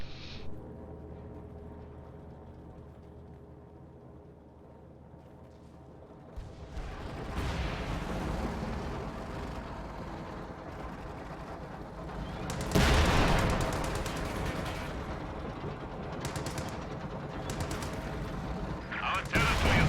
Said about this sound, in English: We have our PPSHs. Time to shoot some Germans.